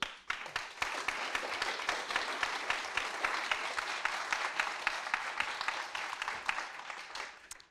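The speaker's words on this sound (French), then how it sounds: "je pense qu'on peut bien les applaudir" An audience applauds after a panel of three presenters at an event on polluted soils in urban agriculture, a steady, moderately distant round of many hands clapping that fades at the end.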